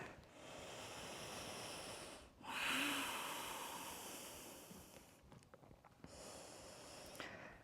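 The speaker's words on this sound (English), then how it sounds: "Let's stay here for 5 deep breaths." Slow, deep yoga breathing held in downward facing dog during an advanced vinyasa session, long airy inhales and exhales with a louder breath near the start, close and soft, without talking.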